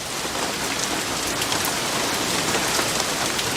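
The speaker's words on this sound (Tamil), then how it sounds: "இந்த மழை வேற எப்போ விடும்னு தெரியலையே." Steady rain patters on a surface, a close, even hiss of drops that continues throughout with no talking.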